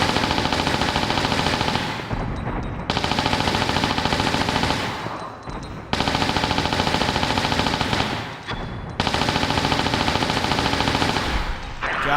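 Gunfire in Tomb Raider 4: The Last Revelation, Cleopatra's Palace: four long, loud bursts of rapid automatic fire, each about two to three seconds long, separated by short pauses.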